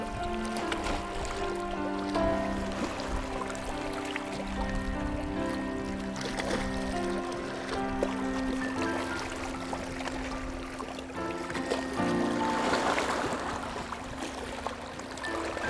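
Big waves rolling in from speedboat wakes on open water, a steady washing and lapping surge that swells louder near the end, close and continuous with no voices.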